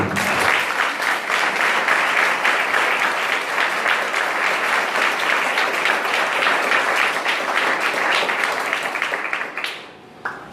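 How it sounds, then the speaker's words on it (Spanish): A church congregation claps loudly during a sermon, a long, even wall of applause with rapid overlapping claps that continues steadily for about ten seconds before cutting off abruptly. "Dale un aplauso fuerte al Señor."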